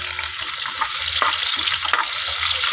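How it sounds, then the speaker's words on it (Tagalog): Garlic and onion sauté in a hot pan for a home-cooked vegetable dish, giving a steady close sizzle with a few sharper stirring scrapes and no one talking. "Una, maggisa na tayo ng bawang. Sunod, ilagay na natin yung sibuyas."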